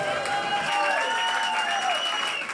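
A crowd in Munich applauds to welcome arriving refugees, with dense, continuous clapping and faint voices mixed in.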